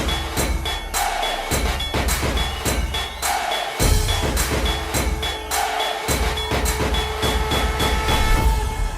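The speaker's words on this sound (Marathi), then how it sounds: "ट्रेन गाडी आमची पाठी आहे" A train rolls past close behind people standing near stalls outside a temple, with steady rumbling and a repeating clickety-clack of wheels over rail joints running throughout at a loud, consistent level.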